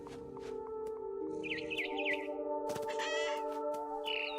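Frightened barn swallow in the video game What Remains of Edith Finch, giving several short chirps and caw-like calls close by over a steady ambient game hum, with no talk.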